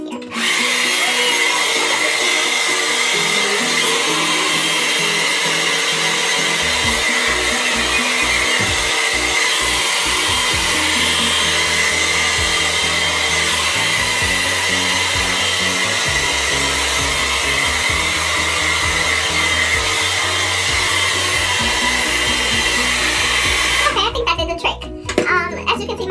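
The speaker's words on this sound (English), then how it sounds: "use the blower, turn it on cold air or whatever you guys like to use on high" A hair blower runs on high, a loud continuous whooshing hum under a person's talking, cutting off abruptly near the end.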